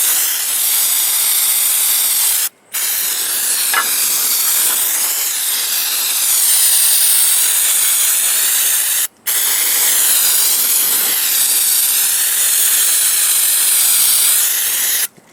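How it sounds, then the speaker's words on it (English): Regular brake cleaner sprayed onto a Nissan Altima CVT transmission pan and its magnets, a loud sustained aerosol hiss broken by two brief pauses, close up with no talking. "Got some just regular brake cleaner here."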